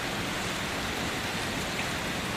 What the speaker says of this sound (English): As the final drop of rain touches the earth